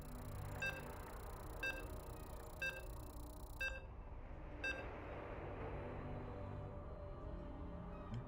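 Short electronic beeps sound one by one at a steady one-second rhythm, five in a row, as a StarCraft match loads, over a constant low bed of game and crowd noise.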